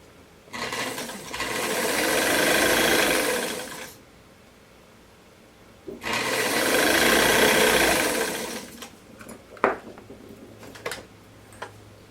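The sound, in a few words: sewing machine stitching a summer dress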